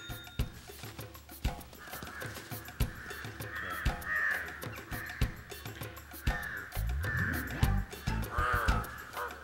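Crows caw repeatedly and loudly at close range, harsh calls recurring throughout, with scattered clicks and knocks in between.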